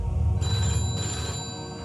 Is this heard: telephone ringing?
yes